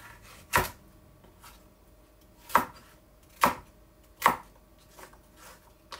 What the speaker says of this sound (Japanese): 人参を切っていきます。